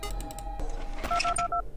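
Telephone in the video game Five Nights at Candy's 2: a short run of touch-tone dialing beeps, evenly spaced, clear and close, near the end of the clip, with a low background hum.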